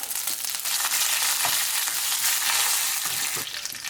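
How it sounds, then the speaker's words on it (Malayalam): Curry leaves and small dried red chillies hit hot oil with mustard seeds for Kerala sambar, a loud close burst of hissing, spitting sizzle that holds steady and eases slightly at the end. "ഇനി ഇതിലേക്ക് കുറച്ച് കറിവേപ്പില ചേർത്ത് കൊടുക്കാം"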